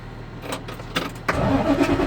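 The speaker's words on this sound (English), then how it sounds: "Starting the truck back up." A truck engine starting during a CDL brake test: a short cranking stutter, then the motor catches into a low rumbling idle, close and fairly quiet, with no talk.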